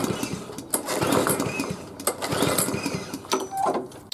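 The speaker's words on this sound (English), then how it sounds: "let's try to start the mower. It wasn't started for quite a few months." A lawn mower left unstarted for several months after winter storage is cranked repeatedly, giving a dense, near mechanical rattle and whir with irregular pulls but no catching engine.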